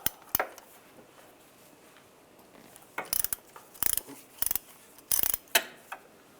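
Sharp metallic ratcheting clicks from a 6mm hex socket loosening a bolt on a 1999–2005 Volkswagen Jetta during alternator replacement, coming in several short close bursts separated by quiet pauses.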